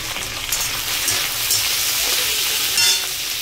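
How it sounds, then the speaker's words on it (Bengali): Potatoes fry in hot oil with a cumin seed tempering, giving a steady, close sizzle and crackle that runs through without pause and with no voices over it. "জিরা ফোড়ন দিয়ে আলুটা ভাজি করে নেব"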